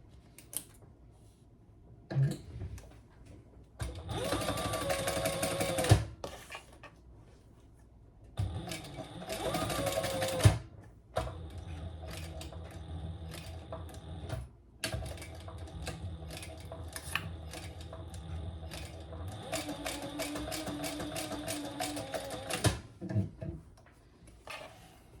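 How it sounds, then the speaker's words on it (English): A sewing machine chain stitching while assembling a bag with a D-ring and tape, running in several fast, rattling bursts separated by short pauses, close and clear with no talking. "Chain stitching there."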